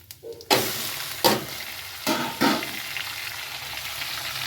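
Chicken curry ingredients tipped into a hot pan give a loud burst of sizzling frying, followed by a steady hiss with several sharp scraping stirs at regular intervals.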